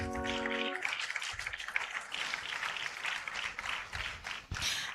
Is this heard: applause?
yes